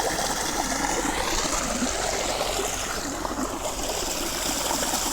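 Water flows steadily into a tank, a continuous close rushing trickle with no break.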